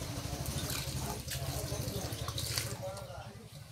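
Drumstick leaves are rinsed in water, with soft splashing and trickling under a low background hum while a person talks quietly nearby.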